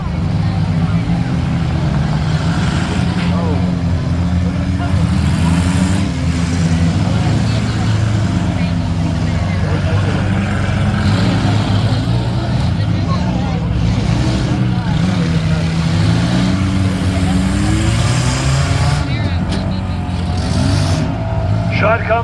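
Demolition derby cars at the Allen County Fair churn their engines continuously, a loud, dense rumble with surges of revving and scraping throughout, while an announcer talks over the action.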